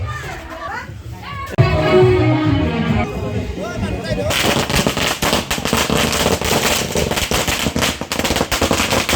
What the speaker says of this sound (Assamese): চলো ফটকা লাগে। এতিয়া ঘৰত আছে ফটকা।